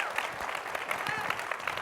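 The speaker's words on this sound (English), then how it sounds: "Another huge round of applause." A panel-discussion audience claps for the co-panelists in a dense, steady round of applause that holds for the whole stretch.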